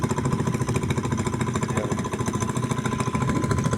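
A small boat's engine chugs steadily on a flooded river after heavy rain, a loud continuous low throbbing drone with a fast rhythmic knock, close and dominant throughout.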